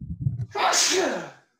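A single loud, close sneeze bursts out after a few moments of low background murmur, with a sharp intake building into a forceful, breathy explosion that fades away during a tabletop Dungeons and Dragons session.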